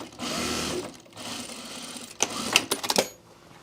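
Juki 8700-7 electronic industrial sewing machine stitching in two bursts, a steady whirring run followed by a pause, then a series of quick clicking and clacking sounds.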